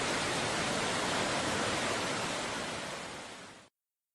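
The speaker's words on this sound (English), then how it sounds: "McDonald Creek is an excellent example of massive power and delicate beauty combined." Rushing water of McDonald Creek in Glacier National Park, a dense, loud, unbroken roar of whitewater filling the scene, fading slightly before cutting off abruptly.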